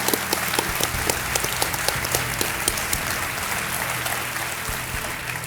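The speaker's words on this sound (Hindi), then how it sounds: "तालियों के साथ इनका स्वागत।" A game-show studio audience claps in a loud, dense round of applause that holds steadily and tapers slightly toward the end, with a faint voice beneath it.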